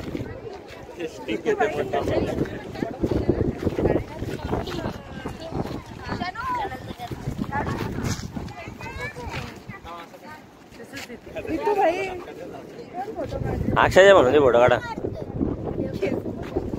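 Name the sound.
strong wind and sea waves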